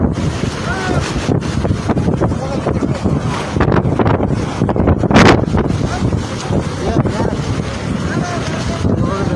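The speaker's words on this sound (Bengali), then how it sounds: "কী পরিমাণ বাতাস আসলে" Strong, roaring wind from Cyclone Remal at Cox's Bazar, Bangladesh buffets the microphone continuously, with a constant broadband rush and faint voices mixed in.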